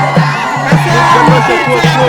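Spectators at a bullock cart race roar and whoop as a loud, dense mass of voices, while a steady thumping beat repeats through the din.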